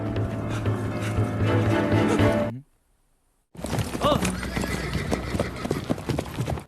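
Horses ridden by soldiers gallop with loud, dense hoofbeats and neighing, close and busy, broken by a second of near silence before the pounding charge resumes.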